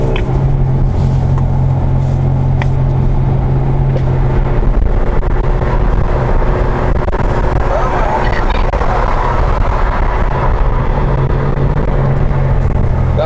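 Modified cars at full throttle produce a loud, continuous engine roar and drone from close inside a vehicle, steady over several seconds, with people talking over the noise.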